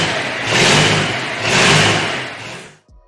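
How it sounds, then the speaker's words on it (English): A Big Bug 747, an immense engine, cranks over with a kick and settles into a loud, close chugging run, swelling twice before cutting off abruptly near the end. "It starts with a kick like the Ford flathead engine startup and segues into a chugging sound."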